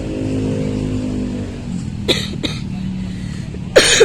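Three short, sharp coughs, two close together and a louder one after a pause, over a steady low engine hum.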